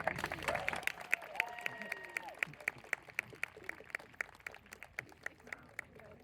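Audience clapping at a falconry show, a steady run of distinct individual claps at moderate distance with voices mixed in underneath throughout.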